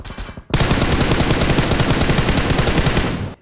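Rapid automatic MK rifle fire in the video game BGMI, a loud, continuous burst of closely spaced shots lasting a few seconds.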